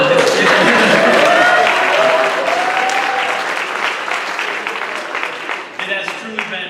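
A school assembly crowd claps for a spring sports team, loud dense applause at first that gradually thins and fades, with some voices and cheers mixed into the clapping.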